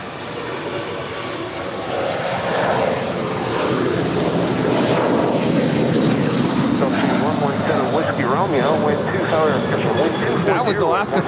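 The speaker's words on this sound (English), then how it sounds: "That was Alaska 512 departing to Zihuatanejo, the 12-year-old 737-800." An Alaska Airlines Boeing 737-800, twelve years old, departs LAX with a loud, sustained jet roar that swells and holds, with a voice talking over it.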